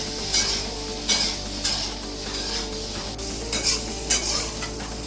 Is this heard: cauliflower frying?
yes